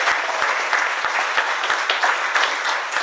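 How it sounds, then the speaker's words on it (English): Audience at an evening charity fundraiser dinner giving Cheryl a round of applause, steady dense clapping from many hands throughout, fairly close and even in level. "applause for all the hard work she's done"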